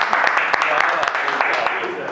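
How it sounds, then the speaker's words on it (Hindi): A crowd applauds the winner of a cheese steak eating contest with scattered, sharp claps under loud excited talk. "तालियां गूंगे के लिए जोरदार भाई"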